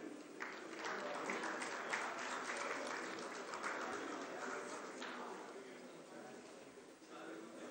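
Audience applause fills a hall at a Sindh government solar home system distribution ceremony, a steady dense clatter of many hands that runs throughout, with a voice audible beneath it.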